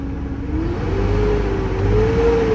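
A truck engine that is running rough, with poor throttle response, revs loudly and steadily nearby. Its droning pitch climbs slowly over a couple of seconds.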